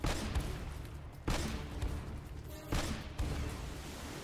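Heavy gunfire rings out in the action video game Uncharted: Drake's Fortune, four loud, booming shots spaced about a second apart, each with a long rumbling tail over steady game ambience.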